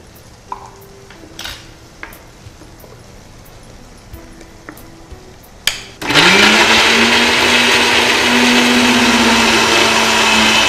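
Mixer grinder pureeing two tomatoes for a paneer capsicum curry, starting abruptly after a few quiet kitchen clinks and running as a loud steady whirring motor that rises slightly in pitch.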